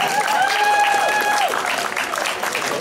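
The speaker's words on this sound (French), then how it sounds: "On peut applaudir," A crowd applauds at a community event on extractivism in Besançon, with steady clapping throughout and a voice calling out briefly over it near the start.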